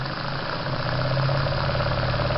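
A small live steam engine running on steam from a Jensen boiler, a continuous close mechanical chugging hum with steady hiss, even and unbroken throughout.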